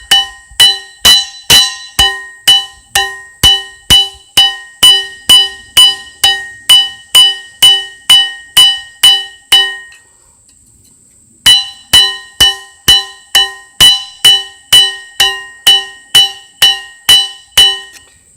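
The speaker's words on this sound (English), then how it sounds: "you just take the round part of your ball peen, smack them edges out" A ball peen hammer's round face beats the edges of a copper blade in a steady run of bright, ringing metallic strikes, pausing briefly midway before the rhythmic hammering resumes, close and loud.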